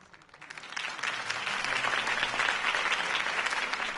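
Crowd applause after Harvey Dent's campaign speech in the Batman Telltale video game, rising quickly from quiet into a dense, sustained roar of many clapping hands that stays loud to the end.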